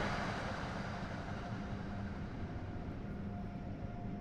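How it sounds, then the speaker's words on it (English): A big, massive train roars steadily past in Train Sim World 3 on the Northeast Corridor between New York and Trenton, a dense continuous rumble with a faint hum, loud and unbroken throughout. "that was a big, massive train that went past then"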